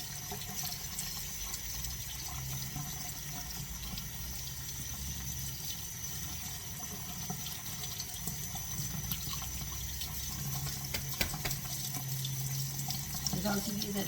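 Tap water runs steadily over dirty leeks being rinsed and spread apart in a sink, a continuous splashing stream with light handling noises.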